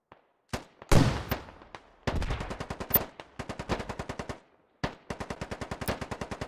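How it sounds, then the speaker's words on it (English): Gunfire in the military shooter game Squad, with a loud close burst, then rapid rhythmic volleys of automatic fire broken by short pauses, each shot sharp with quick decay. "Taking heavy fire."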